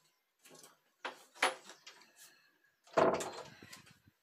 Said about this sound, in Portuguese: toda vez que eu tô gravando, ela vem e abre a porta aqui do ateliê para entrar